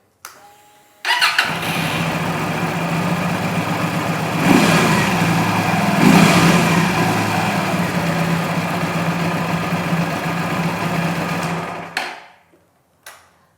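A 250cc V-twin motorcycle engine with stock exhaust starts and idles steadily with a deep, throbbing low rumble, loud and close, then cuts off abruptly near the end.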